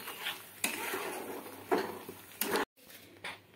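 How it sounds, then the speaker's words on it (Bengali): Masala for shahi paneer is stir-fried in a pan over medium flame, a soft sizzle broken by several scraping stirs and clinks of a utensil against the pan, with no voice. "এটা মশলাটা কষানো হচ্ছে"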